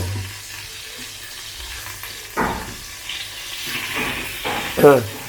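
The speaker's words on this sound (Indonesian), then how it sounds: "Kalau minyak olive oil ini kalau digunakan untuk memasak daging agak lama gitu kan, warnanya tetap jernih kan" Wagyu rib eye steak fries in olive oil in a pan with a pepper and MSG seasoning, giving a steady, moderate sizzle with a few louder spits and stirring scrapes near the end.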